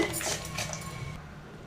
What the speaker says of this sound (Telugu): ఇప్పుడు మరమరాలను, అదే ప్యాలాలను వేసేసుకుందాం.